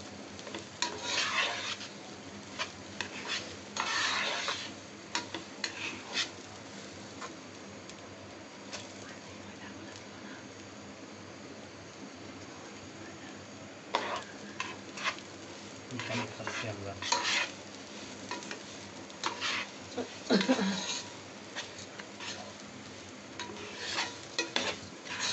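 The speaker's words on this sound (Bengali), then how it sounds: "ভালো করে ভেজে নিতে হবে পোলাওটা।" Two cups of rice for pulao frying in a pot, with a low continuous sizzle under bursts of spoon-against-pot stirring and scraping, some clusters close together and others spaced apart.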